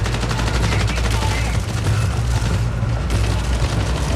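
Gunfire in the extraction shooter video game Marathon, a dense, steady wash of rapid shots and booming low rumble running continuously, loud and alone with no clear talk.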